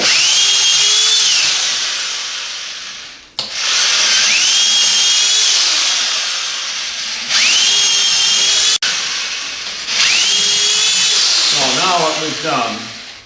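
A power drill bores holes into a log for growing shiitake mushrooms, giving about four high, whining bursts separated by brief stops, close and loud, with a short voice near the end.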